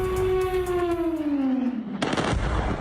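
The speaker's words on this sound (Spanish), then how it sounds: "El cielo oscuro de Caracas se iluminó con estas explosiones." Explosions over Caracas in the dark sky around 2 a.m., in the north of the city. A loud falling whistle is followed by a sharp, heavy blast and a rumbling, crackling tail.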